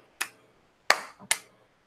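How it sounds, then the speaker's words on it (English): Three slow, sharp, sarcastic claps ring out alone in a quiet room, spaced unevenly with a longer gap after the first, each crisp and close. "Slow clap"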